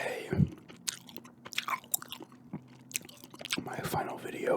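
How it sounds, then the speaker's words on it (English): Gum chewing right at the microphone, with soft, wet, irregular smacks and clicks throughout, while a quiet voice talks at a whisper-like level underneath. "Doing a gum chewing end of the year ramble today."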